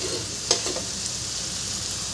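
Sabudana khichdi with potatoes frying in a little oil in a pan, a continuous close sizzle with a single spoon tap and brief stirring scrapes near the start.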